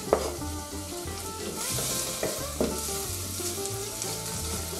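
Onions frying in margarine in a pan as the base for a ragu, giving a steady, close sizzle with a few brief clatters of stirring.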